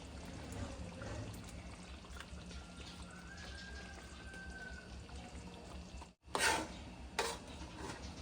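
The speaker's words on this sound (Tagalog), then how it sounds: "Then, add konting water." Water being poured into a cooking pot while preparing a peanut butter and curry dish, a steady soft splashing pour running throughout, with a brief sharper clatter near the end.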